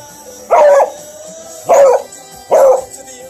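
A dog barks three times, loud and close, each bark drawn out and slightly howling, with pauses of about a second between them.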